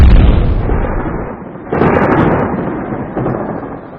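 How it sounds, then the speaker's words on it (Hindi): A loud, booming bomb blast in Hyderabad with a long rolling rumble, followed by further heavy blasts that keep the roar going. "एक जोरदार धमाका"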